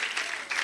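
Applause and cheering from a church congregation celebrating Mathis, a dense, steady wash of clapping that swells briefly near the end.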